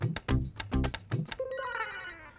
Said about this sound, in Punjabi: ਫੋਨ